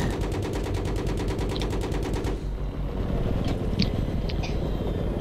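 Video game gunfire: fast rapid-fire bursts of shots in the first half, then scattered single shots and pops over continuous battle noise, loud and close.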